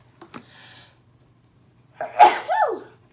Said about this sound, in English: now I feel like I need to sneeze.